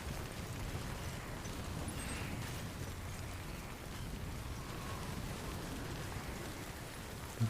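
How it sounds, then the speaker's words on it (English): Rain storm in the video game Death Stranding falls as a steady, dense hiss with a low rumble underneath. It stays quiet and even throughout, with no talk. "Can't rain all the time, can it?"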